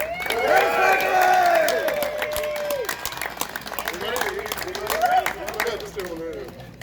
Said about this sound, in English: Another round of applause for the humbug.